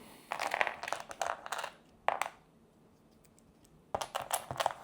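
Small board game tokens shuffled and clacking on a table, quiet bursts of rattling clicks with short pauses between them.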